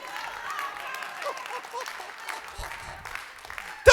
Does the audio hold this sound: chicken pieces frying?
no